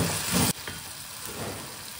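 Citron pickle fries with chilli powder, salt and turmeric and is stirred in the pan, giving a steady sizzle with a louder scraping burst at the start.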